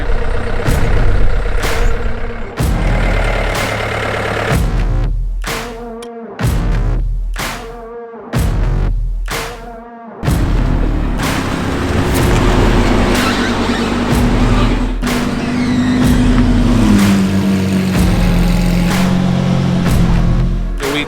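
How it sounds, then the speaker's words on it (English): Supercars rumble and rev as they roll out of an aircraft hangar, engine noise loud and close with bursts of acceleration and a rising whine near the end, broken by a few short pauses. "we're just moving the cars out of the way"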